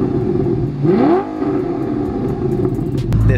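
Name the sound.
manual Audi R8 V8 engine and exhaust revving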